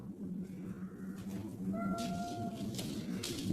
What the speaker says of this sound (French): Ça c'est minou.